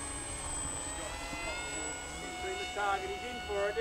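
A plane drones with a steady engine tone and high whine throughout, while people talk over it nearby.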